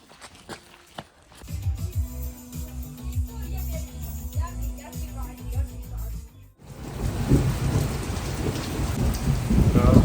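Heavy rain with rolling thunder sounds loud and close, at first mixed with rumbling and clattering, then turning into a dense, surging downpour.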